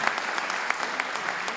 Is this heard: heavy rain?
no